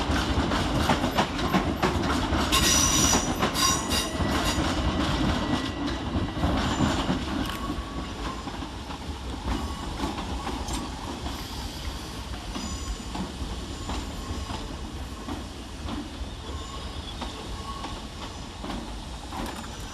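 A train rumbles loudly through Brighton railway station with wheel squeal and clattering over the rails, fading slightly as it continues past.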